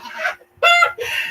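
Roosters on a small farm crow and cluck in quick, loud bursts, several harsh calls close together at close range with no talk over them.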